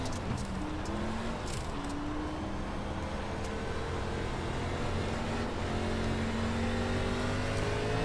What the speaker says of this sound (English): He's definitely throttling it up hard.